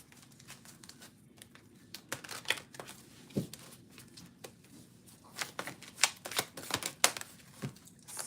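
Tarot cards that have spilled are scooped up and riffled back together, close and dry, a patter of flicks and slaps that grows busier and louder toward the end, with no voices.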